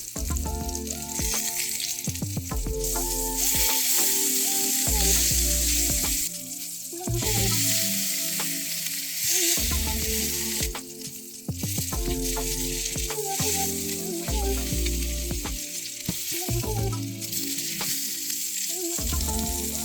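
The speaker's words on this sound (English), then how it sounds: "Heat a large drizzle of oil in a large pan over medium-high heat. Once hot, Add the pork and cook." Pork tenderloin browns in hot oil in a large pan over medium-high heat, giving a loud, continuous sizzle with repeated clatters and scrapes as the meat is turned, and no talking.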